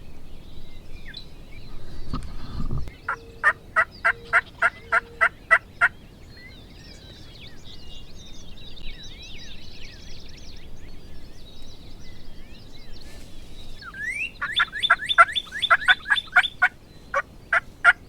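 Wild turkeys gobble in a late-season spring woods, repeated rapid gobbling bursts ringing out clearly from a short distance over quiet ambience, with a second strong volley near the end.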